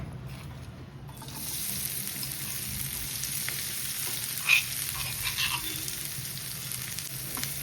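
Oil frying steadily on a low flame for a pickle, a constant bright sizzling hiss that swells after the first second and holds evenly, with a faint clink partway through and no voices.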